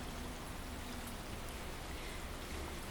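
Steady rain falls continuously during a movement class, a dense even patter and hiss with no talking over it.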